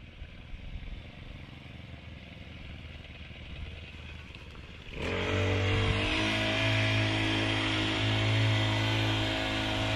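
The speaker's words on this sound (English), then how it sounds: "Keep the motor straight, cause you don't want the propeller to hit the kayak." A small outboard motor on a kayak fitted with a stabilizer starts up midway and runs steadily, propelling the boat with a close, droning engine hum and rising broadband noise over an earlier quieter outdoor background.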